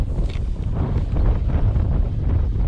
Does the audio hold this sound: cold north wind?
yes